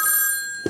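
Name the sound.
mechanical telephone bell ringing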